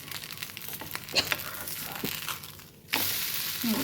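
Instant dosa batter frying on a hot pan, a soft, low crackling sizzle with light scraping and a sharper clatter near the end as it is turned.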